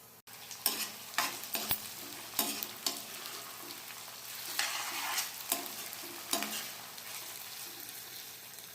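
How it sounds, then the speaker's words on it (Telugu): Onions and green chillies fry in a pan, a soft continuous sizzle broken by repeated scraping stirs of a spoon, close and fairly quiet. "ఇలాగా మొత్తం ఆనియన్ పచ్చిమిర్చి వేగేదాకా వేపుకోవాలి ఫ్రెండ్స్."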